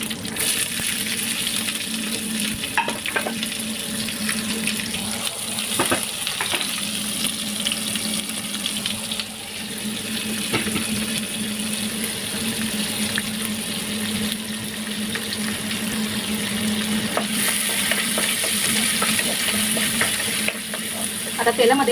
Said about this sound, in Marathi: आता तेलामध्ये कांद्याला चांगला फ्राय करून घ्यायचं आहे.